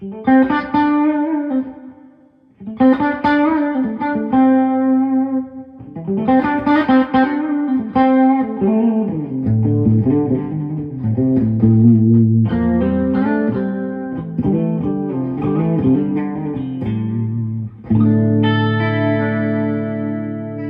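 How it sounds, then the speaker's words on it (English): Electric guitar through a Carl Martin Headroom Mini reverb pedal with reverb and decay both near 12 o'clock, playing phrases of picked chords and notes separated by short gaps, each tail ringing out with a moderate wash of reverb, loud and without any voice. "So let's say we have the reverb set at 12 o'clock"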